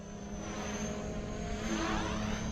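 A Blade 300X RC helicopter flying in sport mode gives off a steady, high-pitched rotor and motor whine with a buzzing hum. The drone is continuous and fairly loud, and no one talks.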